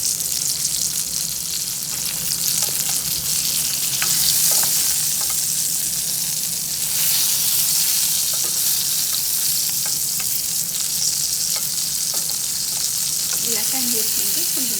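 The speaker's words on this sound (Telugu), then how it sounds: "ఇవి కూడా 2 సైడ్లు కూడా ఫ్రై చేసుకోవాలి." Ridge gourd pieces fry in a pan with a loud, steady sizzle and hiss, close up, with occasional light stirring clicks.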